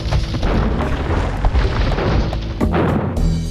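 Cannon galleons firing in Age of Empires 2 during a naval battle at Noryang Point: a dense, continuous barrage of loud booms and crashes overlapping without pause, with no talk.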